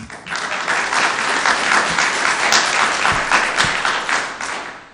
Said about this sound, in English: Only applause from everybody.